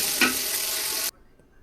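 Onion, ginger paste, garlic paste and green chilies frying in oil for chicken biryani, a loud steady sizzle with a brief stir, cutting off abruptly after about a second into near silence.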